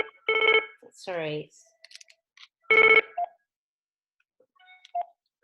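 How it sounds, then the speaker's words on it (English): A phone rings with an incoming call during an online campaign briefing. Two loud, close trilling ring bursts come a couple of seconds apart, and a person speaks briefly between them. "sorry, I keep getting a phone call."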